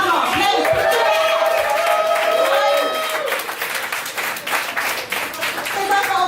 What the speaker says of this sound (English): can we not have a bit of a round of applause for a long weekend?